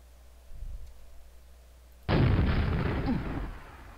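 A rocket blows something up in a video game: after a muffled thud, a sudden loud explosion bursts in and keeps roaring and crackling for about two seconds, with no talking.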